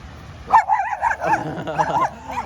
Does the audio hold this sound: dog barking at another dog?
yes